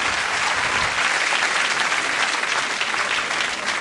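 A television studio audience gives a loud, dense burst of applause that fills the space evenly for a few seconds, with a faint crowd murmur underneath.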